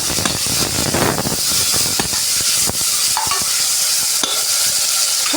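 Tomatoes are stirred into sizzling chicken biryani masala cooking in a pressure cooker, a loud close hiss of frying with repeated scraping and clinking of the spoon against the pot.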